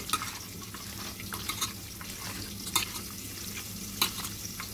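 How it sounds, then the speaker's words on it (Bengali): Garlic and ginger paste being stirred and scraped around a hot pan, soft steady sizzling with a few louder scrapes of the spoon, close up and continuous, no voices. "রসুন বাটা, আদা আর রসুনটাকে ভালোভাবে মেখে নেব।"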